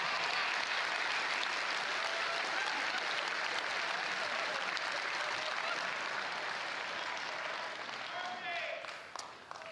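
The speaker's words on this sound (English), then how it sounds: "I'm getting a very hesitant applause from over there" An audience at a presentation gives hesitant applause, a steady wash of scattered clapping from a crowd that runs for several seconds before thinning out toward the end.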